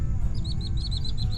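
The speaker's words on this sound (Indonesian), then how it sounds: "Sama ada burung cerek juga guys." Repeated high, short plover calls, about a dozen in quick succession, over a steady low rumble of wind or background noise in a harvested rice field.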